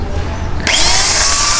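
A power drill abruptly whirs to life after a quiet moment, its motor whining loudly and steadily up close.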